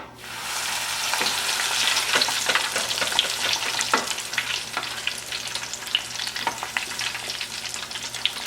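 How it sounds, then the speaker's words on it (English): Battered onion rings dropped in a basket into hot oil for deep-frying, a dense steady bubbling sizzle with scattered crackles and pops, close and moderately loud, no talking. "So now I'll put my onion rings in my oil, and it'll take about a minute and a half."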